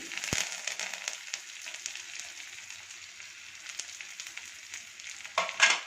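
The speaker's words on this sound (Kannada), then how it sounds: "ಇದೆಲ್ಲ ಒಗ್ಗರಣೆ ಜೊತೆ ಸ್ವಲ್ಪ ಫ್ರೈ ಆಗಲಿ." Soft crackling sizzle of onions, garlic, dried red chillies and curry leaves frying in oil, fairly quiet and steady, with a brief clatter at the start and a stir near the end.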